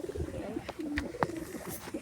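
Pet pigeons cooing nearby in a loft, a few soft low coos and brief calls over faint background rustle and knocks.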